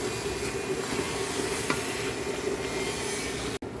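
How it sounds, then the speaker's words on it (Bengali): Rice for pulao with peas and carrots is fried and stirred in a pot, giving a close, continuous sizzle with scraping and rubbing strokes and a brief dropout near the end, no voices. "এখন এই চালটারে খুব ভালো করে ভেজে নিব অনেক সুন্দর করে"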